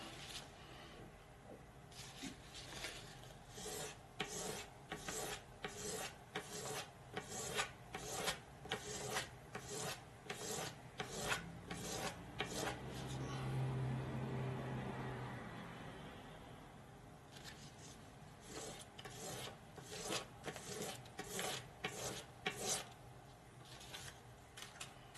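A Cold Steel Frenzy III knife blade is drawn repeatedly across a 1,500-grit sharpening stone, giving rhythmic rasping strokes at close range. A short pause in the middle lets a low hum through before the strokes resume.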